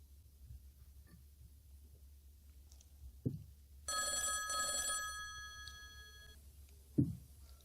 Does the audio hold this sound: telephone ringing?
yes